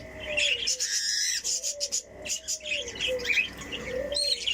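Pet parakeets kept in a bird-rearing setup chirp and tweet in bright overlapping calls, with bursts of wing flapping close by; no talking.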